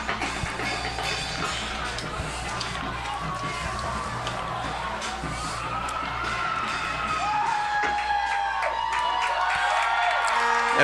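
A stadium crowd at a high school marching band event cheers and whoops after the Cumberland High School drummers' performance. The noise is a broad, sustained roar that grows louder toward the end, with voices mixed through it.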